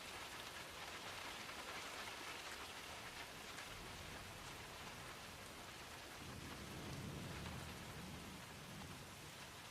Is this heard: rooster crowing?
no